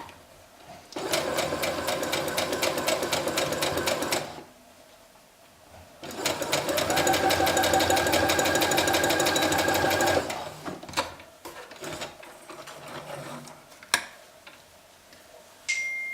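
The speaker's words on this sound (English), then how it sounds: "if you're only planning to use your sewing machine, I would go over this seam one more time" A sewing machine runs a seam along the gusset inseam of a romper in two steady, fast-ticking bursts of several seconds each, close and prominent, followed by quieter handling noises.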